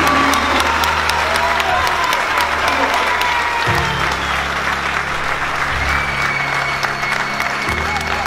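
An audience at a meeting on Réunion island applauds with loud, sustained clapping and some crowd noise, continuing steadily throughout.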